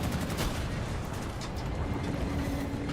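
Tank turret firing in Battlefield 2042, a dense, steady roar of rapid shots blended with engine and mechanical rumble, loud and continuous without pauses or talk.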